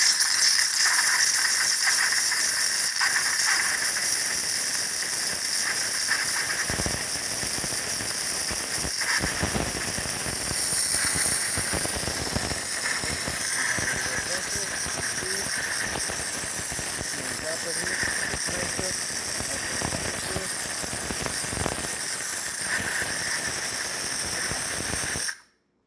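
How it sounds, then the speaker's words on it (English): Steam wand of a Saeco espresso machine blowing a loud, continuous hiss for about 25 seconds with rattling, sputtering bursts, then cutting off abruptly at the end. "And this is how the steam will be."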